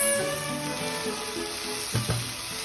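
Tomatoes go into a hot kadai of oil, a steady close sizzle and frying hiss with a brief louder crackle burst near the end, no talking.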